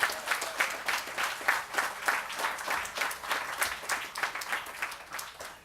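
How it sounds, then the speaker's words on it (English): An audience claps for a family cultural group at a village lights-installation ceremony at a recreation ground, the claps coming in a loose rhythmic pulse that holds steady for several seconds, moderately loud and alone without talk. "Let's give them a lusty round of applause there."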